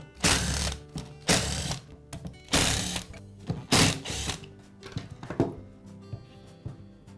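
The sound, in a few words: removing screws from DeWALT angle grinder rear side cover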